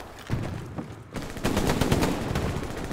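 Rapid gunfire in the Hell Let Loose video game, with bursts of shots that build into a dense, continuous volley over the last half of the short stretch.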